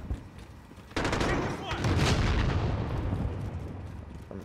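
Rapid gunfire and bursts in the shooter game Call of Duty: Modern Warfare, loud and continuous from about one second in, with explosive booms mixed in and players talking over it.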